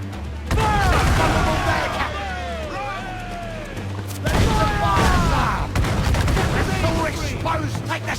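Heavy ship cannon fire booms in a naval battle in Assassin's Creed IV Black Flag, loud thuds and crashes under shouting crew voices and rushing wind.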